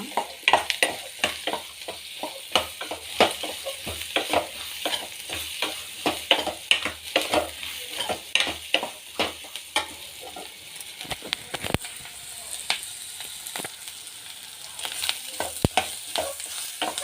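Bitter gourd frying in oil for a palya, a steady close sizzle with frequent scraping stir strokes throughout, no talk.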